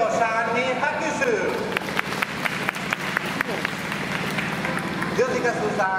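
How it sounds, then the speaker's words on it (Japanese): An audience at a Spanish performance show in Shima Spain Village, Japan, breaks into applause, a dense burst of many hands clapping that rises and carries on for several seconds while a voice talks over it. "名前はシロさんに拍手"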